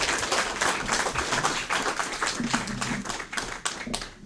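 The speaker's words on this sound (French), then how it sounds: "un tonnerre d'applaudissements pour le Rav." A crowd claps for a rabbi at a religious debate, a continuous, fairly loud wash of many hands with sharp individual claps standing out, with no talk over it.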